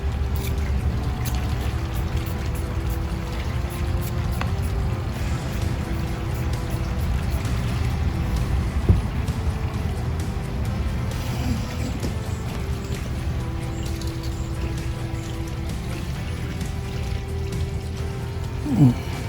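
Chemical treatment liquid pours over a diseased cactus in a long steady trickle and splash, continuous and close, with small handling knocks along the way.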